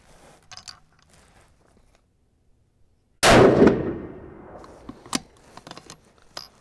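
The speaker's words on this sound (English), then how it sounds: "I'll go ahead and shoot this on another paster." A single loud 6mm Creedmoor rifle shot loaded in Peterson brass, fired at an outdoor range, rings out sharply and decays into a long echo, followed by a few faint clicks and handling noises.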